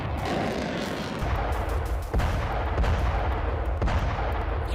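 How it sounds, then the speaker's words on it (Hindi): Distant artillery fire in the Russia-Ukraine war, heard from the border, booms repeatedly over a constant rumbling background, several sharp blasts at irregular intervals, loud and continuous. "यहाँ लगातार दिन में भी आपको आर्टिलरी फायर साफ तौर पर सुनाई देता है।"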